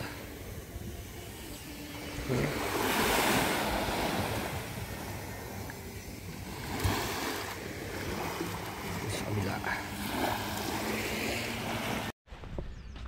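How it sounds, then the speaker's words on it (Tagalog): Sea waves roll and wash onto the shore in a steady surging hiss, swelling and easing, with gusts of wind buffeting the microphone. "Ganda ng dagat."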